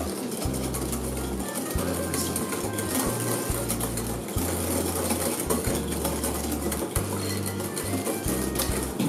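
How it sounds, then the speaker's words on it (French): An electric mixer whirs in bursts as it blends crème brûlée mixture with a little added milk, its loud motor starting and stopping repeatedly over clattering bowl noise, with no speech. "Et mixez très vite."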